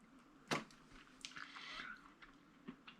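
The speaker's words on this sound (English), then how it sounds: "I'm still chewing on that skin." Tough smoked meat skin being chewed close to the mic, giving soft wet squishing and biting sounds with one sharper crunch early on, quiet overall.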